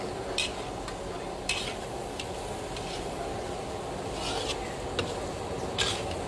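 Chicken varuval being stirred in a pan at Rajes Restoran, a steady low sizzle with occasional soft scraping strokes of a spoon against the pan.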